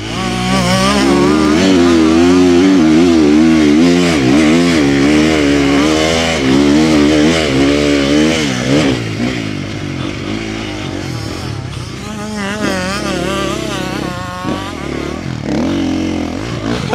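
A motorcycle riding hard, its engine roaring loud and close with a rising and falling pitch as it revs and shifts, held steady across the whole stretch.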